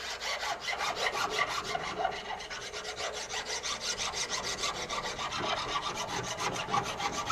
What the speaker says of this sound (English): So I'm going to take a file and